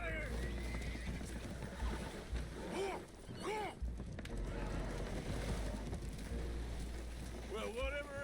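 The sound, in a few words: spooked horses neighing in Red Dead Redemption 2 video game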